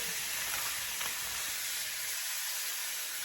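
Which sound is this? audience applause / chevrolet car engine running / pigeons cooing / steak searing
steak searing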